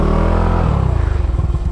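A motorcycle engine runs close and loud, its deep steady drone shifting into a rapid pulsing putter as it settles or pulls away, with no voices.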